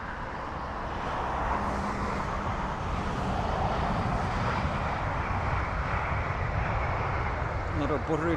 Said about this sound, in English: Another buttery landing.